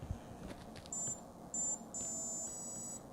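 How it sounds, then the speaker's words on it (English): An ESC on a Twisted Crack Yak-55 32-inch RC plane, freshly calibrated to the radio, sounds a short series of three electronic beep tones, close and clear over a quiet room. "wait for the beeps."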